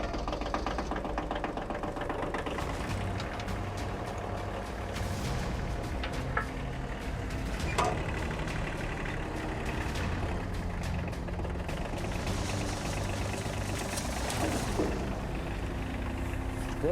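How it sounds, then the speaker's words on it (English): A tractor engine weighing about 1,000 pounds runs on a beach, a steady low mechanical chugging and knocking idle that continues throughout with a few scattered clanks and bumps around it. "I'm gonna start the tractor and tie this rig off."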